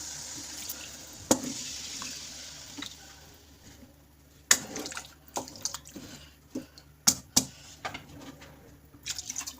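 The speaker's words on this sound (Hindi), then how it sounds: "अब इसमें डाल देंगे जी पानी" Water poured into a cooking pot of fried potatoes and meat for aloo gosht in a home kitchen, with splashing, trickling and several sharp clinks and knocks of the pot, close and without talk.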